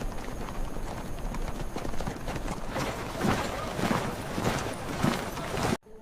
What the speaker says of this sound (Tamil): தூரத்தில் குதிரை ஓடும் சத்தம் கேட்கிறது